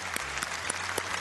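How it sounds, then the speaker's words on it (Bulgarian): A brief burst of studio audience applause greets an 18-time champion on a Bulgarian television game show, steady and close for about a second. "Дами и господа, аплодисменти за 18-кратния шампион Последния печели, Атанас"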